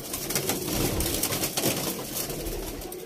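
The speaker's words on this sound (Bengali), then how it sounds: "দেখুন একটা মাদি পায়রা, দেখুন একদম হালকা" Soft, low cooing of a female pigeon comes through a continuous rustling background, faint and repeated, with no voices.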